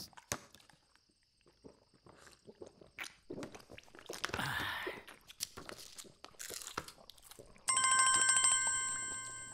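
A telephone rings loudly with a steady electronic tone near the end, after scattered knocks, rustles and footstep-like sounds.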